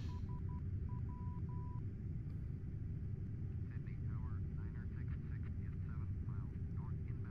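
Boeing 747 airliner in Microsoft Flight Simulator X, a faint steady engine drone under the cockpit, with a few short electronic tones early on and someone speaking over the hum later.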